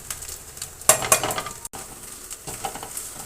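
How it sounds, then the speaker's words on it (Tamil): Spice powders stirred into a hot pan of frying chicken with ginger-garlic paste, a steady close sizzle broken by a few scraping stirs and light clinks of a utensil against the pan. "இப்போல்லாம் நம்ம ஸ்பைசி பவுடர்ஸ் போட்டுக்கலாம்."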